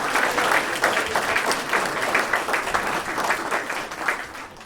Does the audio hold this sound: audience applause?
yes